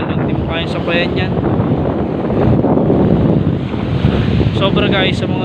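Heavy ocean surf at a San Juan, Batangas beach roars steadily with strong wind buffeting the microphone, a constant loud wash of crashing water throughout.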